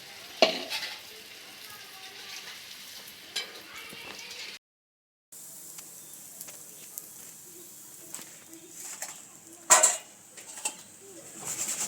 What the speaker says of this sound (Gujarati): આપણે આને તળી લેવાના છે.